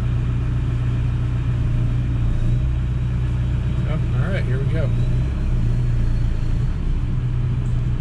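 A 2003 VW Beetle TDI diesel pulling away in first gear gives a steady low engine rumble heard from inside the car, with someone speaking briefly over it.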